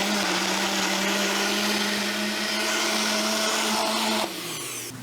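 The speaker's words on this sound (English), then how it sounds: "I would probably do it in a bigger blender" Small Magic Bullet-style blender whirring steadily as it mixes beef protein noodle batter, a loud, constant motor drone that drops in pitch and level near the end as it winds down.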